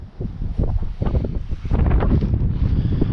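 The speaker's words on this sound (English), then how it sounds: "You can hear the wind." Wind gusting at a shoreline at low tide, a close, rough buffeting roar over the microphone that swells and surges unevenly throughout.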